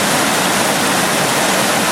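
A waterfall pours over a Foursevens Preon 2 flashlight held beneath it, making a loud, continuous, close-up roar of rushing water with no other sound.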